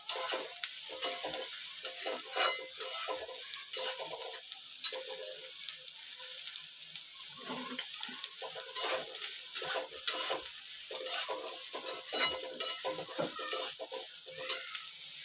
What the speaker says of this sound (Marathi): हे बघा, सगळ्या भाज्या टाकायच्या एकसाथ आणि चांगलं परतून घ्यायचे